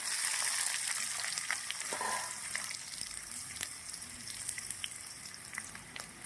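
Capsicum and onion fry in hot oil in a kadai, a dense continuous sizzle with scattered crackling pops, steady and close throughout with no one speaking.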